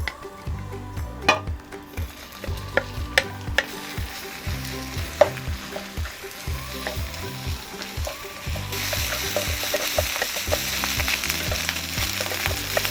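Cooked rice frying in scallion oil in a hot pan, a continuous close sizzle with scraping and stirring clatter from the utensil, growing brighter and denser toward the end.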